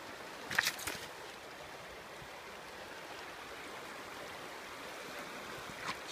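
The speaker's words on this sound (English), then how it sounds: "you can hear the river, because it sounds like it's right next to you" A river flows beside a riverbank campsite with a Dutch army tent, a soft, steady wash of running water close by, with a couple of brief faint clicks and no voices.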